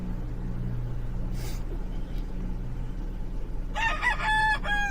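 A chicken kept in a back area, heard over a steady low hum, with a short burst of clucking and squawking near the end.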